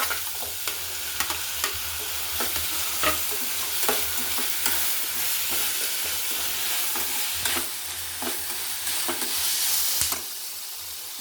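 Tomato and ginger-garlic paste fry in a pan for an egg dish. A loud, continuous sizzle carries regular scraping strokes as the mixture is stirred, then cuts off near the end.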